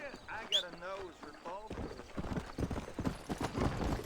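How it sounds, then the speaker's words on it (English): A horse's hooves clip-clop in Red Dead Redemption, with a brief whinny at the start, then a run of steady, close hoofbeats under game ambience. "cómo mueve el caballo"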